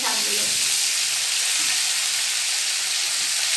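Pumpkin stems and greens sizzle steadily in a pan, a continuous close, even hiss of frying with faint stirring at the start and no talk.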